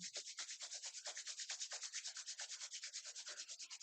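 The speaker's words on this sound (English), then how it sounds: "Rub the palms one more time" Palms rub briskly together in a steady, rapid back-and-forth rhythm of soft, dry friction strokes during a yoga session, close and continuous with no talking.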